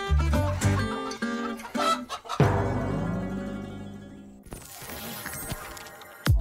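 People mimic hens with a string of loud, quick clucking calls in bursts, with clattering noises around them.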